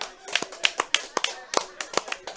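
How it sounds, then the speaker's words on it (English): A few people clapping for the bartender in a bar, a sparse, uneven patter of separate hand claps at close range that keeps going for a couple of seconds. "There's 4 people clapping."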